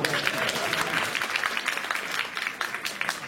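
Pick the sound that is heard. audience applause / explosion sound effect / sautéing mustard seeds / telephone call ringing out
audience applause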